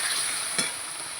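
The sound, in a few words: stirring food frying in a pan after adding salt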